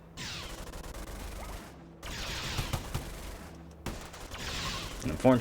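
Bursts of rapid gunfire from a RimWorld raid come in three separated volleys of repeated shots, moderately loud, with a voice talking over them.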